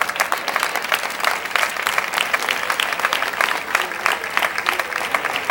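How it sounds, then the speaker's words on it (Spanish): A dense, sustained round of audience applause at a youth presentation ceremony for damas and reinas, loud and continuous throughout, with many hands clapping at once. "Un fuerte aplauso para ella."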